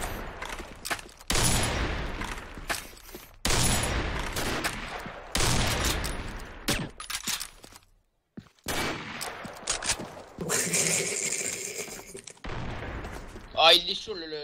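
Gunfire from the video game Combat Arms, bursts of shots and fusillades going off in rapid runs, loud and close, with a player talking over much of it.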